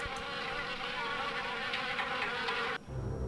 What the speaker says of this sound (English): The old car is the perfect nesting grounds for wasps.